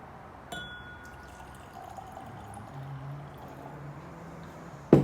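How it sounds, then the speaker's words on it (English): Yoichi Japanese single malt whisky is poured into a glass, a soft, close liquid gurgle lasting a few seconds in a quiet room, ending with a light clink of glass. "Gave myself a healthy pour there."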